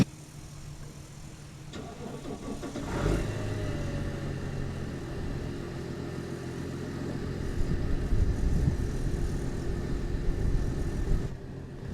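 A cold Mercedes CDI turbo diesel car engine starts in -15 degree air and settles into a loud, steady idle with a rough diesel clatter, running on for several seconds before cutting off near the end.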